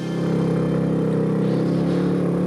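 A motor vehicle's engine strains at full throttle up a steep, risky off-road slope on a narrow mini road, a loud, steady, close droning roar that holds without pause.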